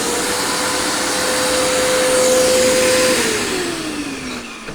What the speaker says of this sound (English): I'm going to power this up.